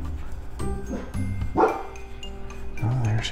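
A pet dog barks a few times in short bursts indoors, the yaps moderately loud and separated by pauses, with faint household background noise.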